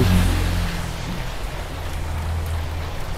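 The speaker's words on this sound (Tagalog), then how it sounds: "ang lakas ng ulan" Heavy rain pours down in a steady, dense hiss with a low rumble underneath, loud and close, no voices heard.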